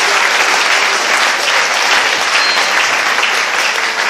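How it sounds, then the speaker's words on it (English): Loud, steady applause from a crowd, dense continuous clapping that fills the whole stretch without pause. "Put your hands together for Jesus."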